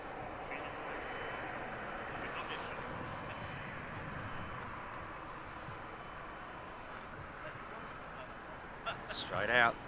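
Qantas airliner taking off at London Heathrow Airport, a steady broad jet roar held at a moderate distance for the whole stretch, with a brief louder burst near the end.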